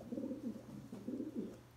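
Racing pigeons in a loft coo softly in low, rolling bursts, several overlapping calls heard fairly close against a quiet background.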